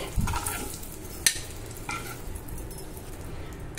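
Boiled eggs for tomato masala egg frying in a pan, a soft continuous sizzle with a few sharp scrapes and knocks from stirring, close and fairly quiet, no speech.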